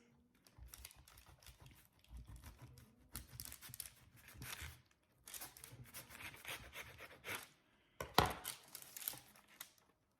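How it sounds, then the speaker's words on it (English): A knife cuts through a rolled keto wrap made of mild cheddar cheese: faint, intermittent slicing and tapping strokes in short close-up bursts, ending in a sharper knock on the board. "now that we have it rolled, I am going to go ahead and cut this"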